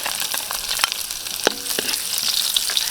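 Onion sautéing in hot oil with golden-browned garlic in a pan, a steady close sizzle with a few sharp clanks of stirring, no voices.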